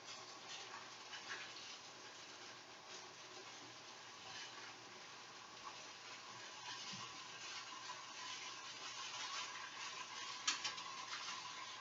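Soft, steady bubbling and faint crackle of lentils and carrots simmering in a pot on the stove, quiet and continuous with small ticks throughout, no talking.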